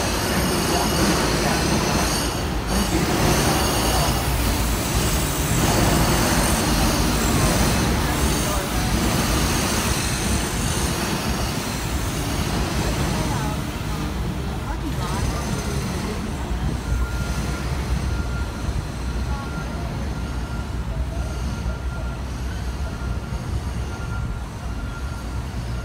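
Loud, continuous rumble of a Disneyland Resort tram rolling along rails, with wheel squeal and clatter throughout; no clear talk stands out.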